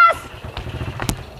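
An ojek motorcycle taxi's engine putters unevenly at close range, a brief, rough idle with a couple of sharper bursts, following a faint short voice at the start.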